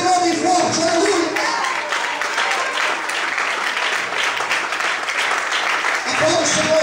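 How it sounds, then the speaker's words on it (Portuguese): A church congregation applauds loudly and steadily for the whole stretch, dense clapping with a brief voice at the start and end. "glorifique e aplauda o Senhor bem forte"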